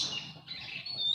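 Competition songbird, canary or lovebird, giving rapid high chirps and trills, close and fairly clear over a low background hum.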